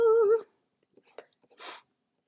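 A single short, clear meow up close, followed by faint rustles and a brief soft breathy noise in near silence.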